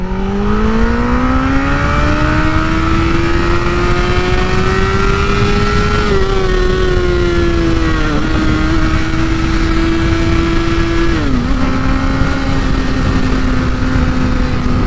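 A 2017 Honda CBR1000RR motorcycle accelerating in first gear, a loud, close engine whine rising steadily in pitch with brief dips around gear or throttle changes, continuous for about fifteen seconds.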